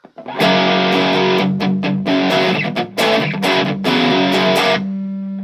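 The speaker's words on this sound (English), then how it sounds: "Let's go to the distortion channel" Heavily distorted electric guitar chords, played through a distortion channel, crunch out in loud, choppy bursts, then ring out into a sustained buzzing chord.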